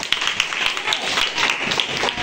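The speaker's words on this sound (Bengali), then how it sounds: "ভেরি গুড, একটা হাততালি দাও।" Students in a seventh-grade classroom clap their hands together, a brief burst of quick, uneven applause at moderate loudness with no voices over it.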